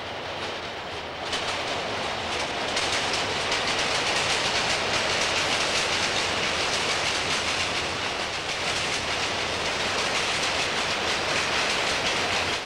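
A freight train rolls past close by, its wheels clacking rhythmically over the rails in a steady, loud, continuous rumble.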